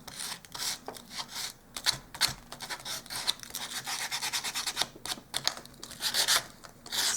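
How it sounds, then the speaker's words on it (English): Sandpaper rubs back and forth over the hard edges of a small wooden dollhouse porch sign, a steady, close, dry scratching made of rapid short strokes that keeps going with brief pauses. "I just want to get just some of the really hard edges sanded just a bit so that it doesn't look too harsh"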